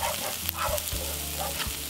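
Chopped onions fry in a pan for an Indonesian oxtail soup, sizzling steadily at close range until golden brown, with a low hum and faint knocks underneath and no talk.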